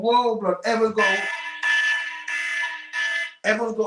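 An alarm sounds in steady bursts with brief gaps, loud and near, while a person talks over its start and end.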